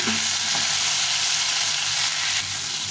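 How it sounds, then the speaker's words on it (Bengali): Potatoes and strips of bitter gourd fry together in hot oil, giving a steady, close sizzle and crackle that continues without a break for the whole stretch, with no voices over it. "প্রথমে আলু করলাটা একটু ভালো করে ভেজে নেবো এই তেলে"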